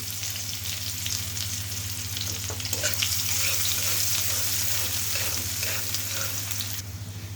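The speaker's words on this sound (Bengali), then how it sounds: "আমার পেঁয়াজটা প্রায় ভাজা ভাজা হয়ে আসছে" Onion frying in oil with bay leaves and whole cumin, a loud continuous sizzle with stirring scrapes, steady over a low background hum and easing slightly at the end, close.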